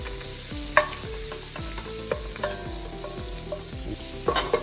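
Butter melting and foaming in a pot for chicken noodle soup, giving a steady crackling sizzle with scattered pops and the odd clink of a utensil, close up and with no talk.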